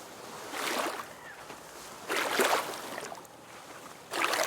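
Paddle strokes splash through lake water in a video game, three broad whooshing surges arriving at a steady unhurried rhythm, each swelling and fading, close and moderately loud with no talk over them.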